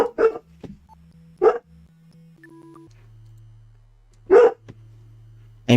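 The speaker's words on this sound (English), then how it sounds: "Sorry if there's a dog in the background." A dog in another room barks in short, spaced bursts, four or five sharp woofs over a few seconds, heard over a quiet background of low steady electronic tones.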